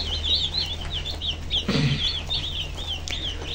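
One-day-old broiler chicks peep continuously in a brooder, a dense chorus of high, wavering cheeps close by over a low steady hum, with a brief louder rustle partway through.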